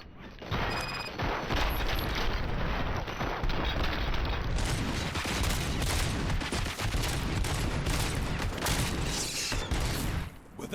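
Sustained heavy gunfire in the RoboCop: Rogue City video game, with dense rapid bursts and automatic fire running almost continuously at loud, close range, and a voice briefly audible in the mix.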